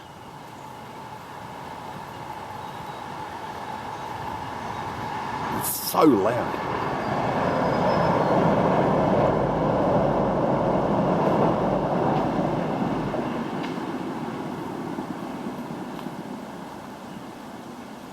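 A train rumbles past close by near Ourimbah Creek railway bridge, a broad steady roar swelling and lingering for many seconds, with a brief squeal early on and a person speaking over it.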